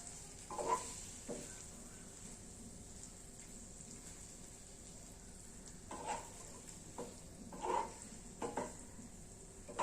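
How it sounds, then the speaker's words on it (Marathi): Paneer pieces for chilli paneer are stirred in a pan, a faint continuous sizzle broken by a few soft scraping stirs spaced irregularly, with no voices. "आता आपण याच्यामध्ये पनीरचे पीसेस टाकून घेऊया. छान मिक्स करून घ्यायचं."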